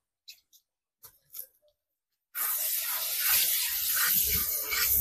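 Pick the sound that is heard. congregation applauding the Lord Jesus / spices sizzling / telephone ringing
spices sizzling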